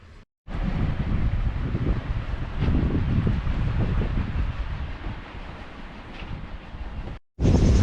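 Steady wind roars across the microphone while sailing under wind near Brindisi, a loud continuous rushing that fills nearly the whole stretch, with a brief drop near the start and end.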